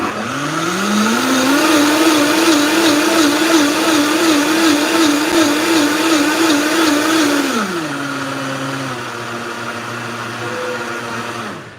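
Kitchen blender whirring through garlic, okra and ginger in water, a loud close motor whine with a wobbling pitch that drops to a lower, steadier hum partway through, with no talking.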